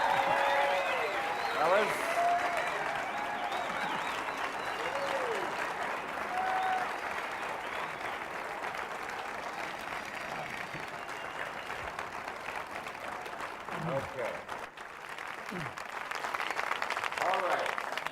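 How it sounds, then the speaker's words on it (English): Audience applause welcoming the Smothers Brothers at a comedy festival seminar, a steady wash of clapping held throughout under a voice speaking briefly. "A very well-deserved round of applause."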